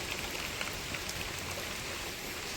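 Light rain falling amid greenery near Thangassery lighthouse, a dense, even patter heard close and steady throughout, with no voices.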